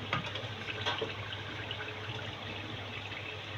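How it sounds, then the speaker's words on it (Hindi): Water poured into a cooking masala for an arbi leaf and besan curry, a continuous gentle splashing gush at moderate level with a couple of brief clinks early on, no speech. "अब इसके अंदर थोड़ा सा पानी हम थोड़ा सा डालेंगे"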